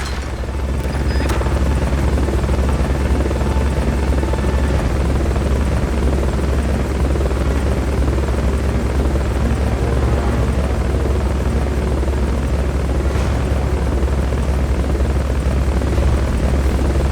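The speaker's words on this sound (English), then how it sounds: "Fulton recovery helicopter is complete." A Fulton recovery helicopter in the video game Metal Gear Solid Peace Walker gives a loud, steady rotor and engine roar that holds unbroken for about seventeen seconds with no talking.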